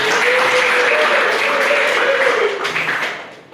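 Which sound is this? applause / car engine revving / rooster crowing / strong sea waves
applause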